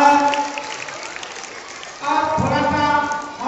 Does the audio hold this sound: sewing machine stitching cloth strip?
no